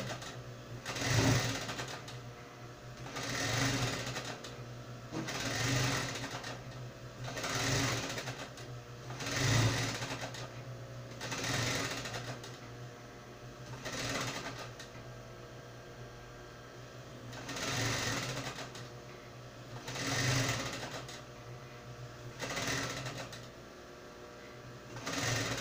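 A sewing machine stitches unicorn dress fabric in repeated bursts of running, pausing between runs in a steady rhythm, close and clear with no voices.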